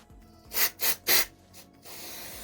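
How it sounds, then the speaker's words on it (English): Brake cleaner sprays onto a motorcycle rear brake caliper piston from a Hayabusa in three short, loud hissing bursts, followed by a softer lingering hiss. "also just give your piston a little bit of a clean up with the brake cleaner as well"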